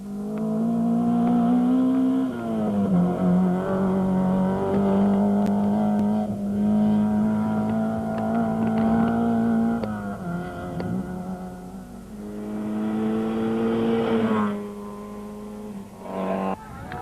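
Rally cars on a fast stage at the Toyota Dealer Rally 2006, engines droning loudly with repeated shifts and rising revs, a sustained close roar that dips and climbs again.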